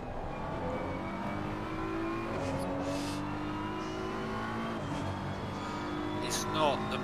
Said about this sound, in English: Doesn't it just sound so boring, the engine out of this car?